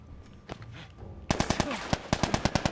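Rifle gunfire in The Last of Us, a rapid string of about a dozen sharp, loud shots in quick succession after a quieter stretch of game ambience.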